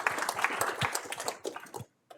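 Audience clapping after the final lecture of a series on holography, a burst of scattered, uneven hand claps in a hall that thins out and stops near the end.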